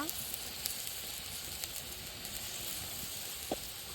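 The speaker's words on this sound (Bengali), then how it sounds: "মশলাটাকে ভালোভাবে কষিয়ে নিই" Spices fried in a pan with onion, green chili, ginger-cumin paste, chili, coriander and turmeric powders, a faint steady hiss and sizzle with a few soft clicks, low and continuous.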